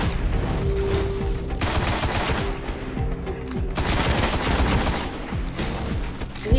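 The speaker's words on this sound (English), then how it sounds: "What if I just run up and shoot him with a shotgun?" Dense shotgun gunfire during a firefight in the Destiny video game, loud and sustained bursts of shots overlapping with battle noise throughout, with no talk.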